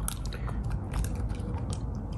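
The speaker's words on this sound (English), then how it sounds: "So Mango's getting to chew on some lamb bone." A puppy chews a lamb rib bone up close, with continuous gnawing, crunching and scraping bites of bone against teeth over a low rumbling background.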